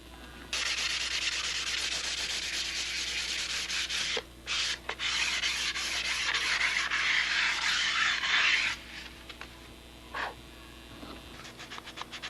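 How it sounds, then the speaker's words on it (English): Sandpaper rubbed over a tissue-covered Spitfire model aeroplane, a close, continuous scratchy rasp lasting several seconds with brief pauses, then tapering to a few quieter strokes. "I'm trying to sand, roughen it up, smooth it out, but not go through the tissue,"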